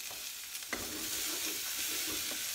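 Pea and courgette vegetables sizzle steadily in a hot pan, a constant close crackling hiss with a light clatter at the start.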